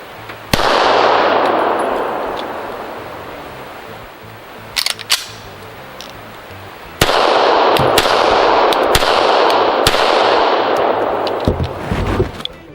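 Pistol shots from a REX zero 1 S handgun at an outdoor range, a handful of sharp, close cracks spaced seconds apart, each followed by a long bright echoing tail.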